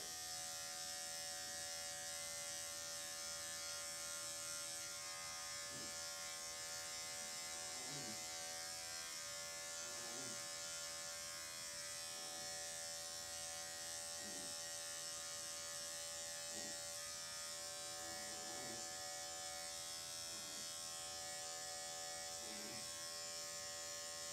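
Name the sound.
electric pet grooming clipper running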